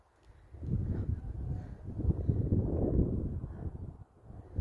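Gusty wind buffets the microphone in a low, rumbling roar that swells and eases, dropping briefly near the end, beside a village onion plot and a ploughed field.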